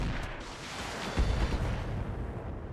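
A mech's internal weapons fire in the RogueTech mod of the BattleTech video game, giving a muffled artillery-like boom and rumble at moderate volume, with a low thump partway through and no talking.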